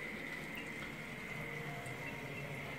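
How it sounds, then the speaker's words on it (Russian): A thin stream of distillate trickles steadily from a moonshine still fitted with a dephlegmator, a faint continuous running and dribbling over a steady tone from the apparatus. "Вот такая вот струйка бежит в данный момент."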